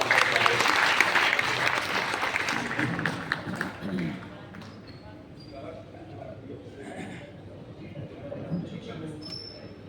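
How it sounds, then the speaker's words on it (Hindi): Audience applause at a Hindi comic poetry gathering (kavi sammelan) in Siwan, a dense burst of clapping that is loudest at the start and then thins into scattered claps and crowd murmur. "रचनाकार भाई विकास गोखल को जोरदार तालियों से आप"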